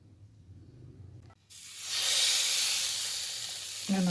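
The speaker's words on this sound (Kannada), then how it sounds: "ನಾನು ರವೆ ಹಚ್ಚಿಲ್ಲ, ಅಕ್ಕಿ ಹಿಟ್ಟು ಹಚ್ಚಿಲ್ಲ, ಹಾಗೆ ಫ್ರೈ ಮಾಡ್ತಾಯಿದ್ದೀನಿ." Uncoated pomfret fish laid into a hot pan, a quiet lead-in giving way to a sudden loud hissing sizzle that settles into steady frying.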